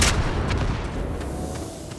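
Grenade blast in a Minecraft capture-the-flag game, a booming burst at the start that rolls into a low rumbling decay, loud and close with no talking.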